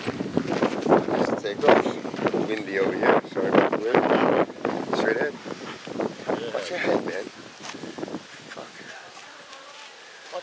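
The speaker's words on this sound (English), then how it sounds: "Windy over here. Sorry about the wind." Wind gusts buffet the microphone outdoors at Center Springs Park, Connecticut, with a rough, rumbling roar that continues under people talking and eases off toward the end.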